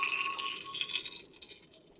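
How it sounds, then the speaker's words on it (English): Water filling a plastic bottle, a close trickling gurgle with a tone that rises steadily as the bottle fills, fading slightly toward the end. "Fill the bottle up with water"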